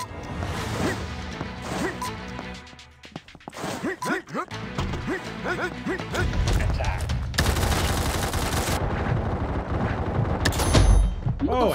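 Assault rifle gunfire in the video game Combat Master, with rapid bursts and sustained automatic fire alongside impacts and crashes, mixed with other game noise and a talking voice.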